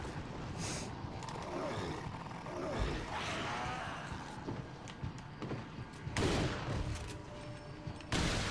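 Shotgun blasts in Resident Evil 4 ring out amid dense game noise and creature growls, with a few sharp loud bursts standing out, notably near the end.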